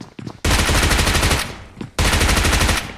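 Uzi gunfire in the battle royale game BGMI: two loud, rapid automatic bursts, each about a second long, with a brief gap between them and a few faint shots before the first.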